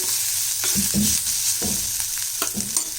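Steady sizzling of curry frying in a pan, with green chillies, with repeated scraping strokes of a spoon stirring through it, close and fairly loud.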